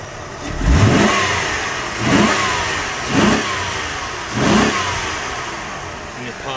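A 1996 Buick Century with the 3.1L engine is snap-throttled four times, each quick rev rising sharply over a steady idle and falling back, loud and close.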